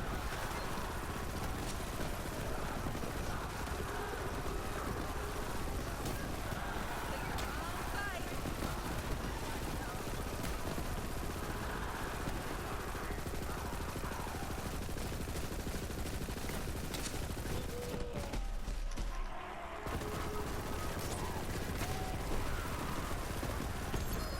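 Sustained automatic gunfire from a weapon in Borderlands 3, a dense continuous rattle with constant loudness and a brief gap near the end, heard alongside talk.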